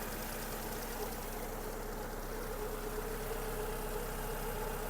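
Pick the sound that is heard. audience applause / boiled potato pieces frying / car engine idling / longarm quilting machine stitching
car engine idling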